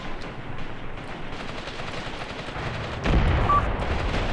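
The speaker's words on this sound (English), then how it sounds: "enemy tanks are shooting back" Tank cannon and gunfire crackle in a battle in the tank war game Graviteam Tactics Mius Front, a steady rumbling barrage with a heavier blast near the end.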